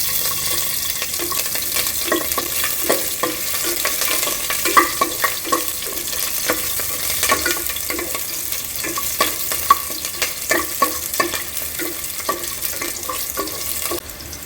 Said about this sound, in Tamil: இப்போ பச்சை மிளகாய் கீறி வச்சுருக்கோம்ல, அதையும் சேர்த்துடலாம்.